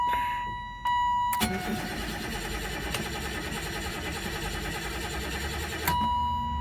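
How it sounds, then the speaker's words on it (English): A 1988 BMW 635CSi electric-conversion project car is switched on and cranks with a loud, steady whirring drone lasting about five seconds, close by, ending with a sharp click. "Let's see what happens when we crank the key."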